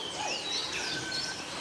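Birds at Jurong Bird Park call and chirp in thin, scattered whistles over a faint open-air background, moderately distant, with no one speaking.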